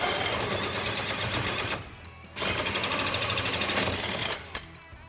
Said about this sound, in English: I hate drilling holes in this thing.